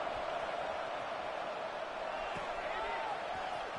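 A stadium crowd at a college football bowl game, Middle Tennessee against App State, buzzes steadily as a dense, continuous roar with no single voices standing out.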